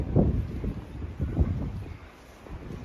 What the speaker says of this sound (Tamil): ஸ்னோ பேஞ்சு முடிஞ்சு காத்து பயங்கரமா அடிக்குது.